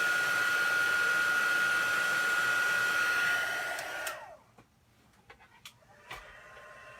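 An embossing heat tool blows steadily to melt embossing powder on a Halloween raven card, a loud continuous whir for about four seconds that cuts off, leaving faint clicks and small handling noises.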